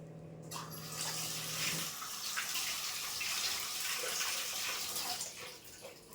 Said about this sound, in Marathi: आता हे धुवून घेते दोन्ही मिरच्या कढीपत्ता